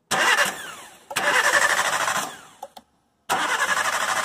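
A Chevrolet Spark engine with a sudden stalling fault cranks repeatedly in three close, loud bursts of starter whirring, with brief pauses between attempts and no catch.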